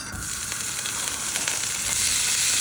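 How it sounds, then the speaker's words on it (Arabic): Homemade luncheon meat (bolubeef) fries in hot local ghee in a pan, giving a loud, steady, close crackling sizzle that holds without a break. "نجيب شويه السمنه البلدي بتاعتنا الجميله على ما السمنه تقدح كده في السريع. ننزل بالبولوبيف"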